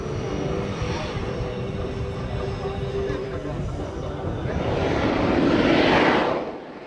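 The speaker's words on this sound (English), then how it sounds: "this Soko G2 Galeb, a jet trainer built in the former Yugoslavia" A Soko G2 Galeb jet trainer built in the former Yugoslavia, seen at an aviation event at the Ajdovščina grass strip, gives a steady loud engine roar that swells as it passes near toward the end, then begins to fade.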